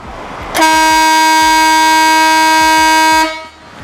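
A single sustained blast from an Italian-made Marco Hurricane car horn, loud and close, holding a steady bright tone for about two and a half seconds before cutting off.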